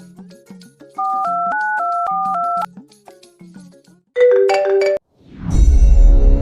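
A phone rings with a repeating two-tone electronic melody, followed by a brighter chiming tone and then a burst of noise, loud and close with a few short sounds between.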